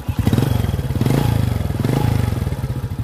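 A smooth-running motorcycle engine recorded right beside the engine block: a loud, rapid, steady chain of low firing pulses with a slight rise and fall in speed, alone without talk.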